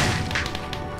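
A firework striking an enemy in the Minecraft Dungeons video game gives a short, dull thump with a brief crackling impact.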